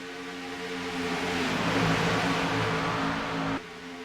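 Stock race cars roar past on the Talladega tri-oval during a Dash for the Cash event, running nose to tail. A steady, distant engine drone swells slightly and holds, then drops away abruptly near the end.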